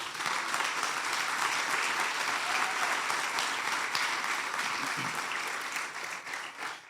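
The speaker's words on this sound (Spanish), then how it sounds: "Y dale un fuerte aplauso al Señor." Church congregation giving a strong round of applause during a sermon, dense continuous clapping from many people filling the space, even and loud throughout before tapering slightly at the end.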